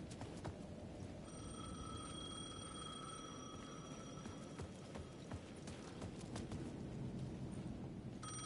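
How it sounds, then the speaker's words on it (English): A payphone at the edge of a plaza in the Alan Wake 2 video game rings with a steady electronic tone over a dense, rumbling ambient background, with no one talking. "The payphone at the edge of the plaza was ringing again."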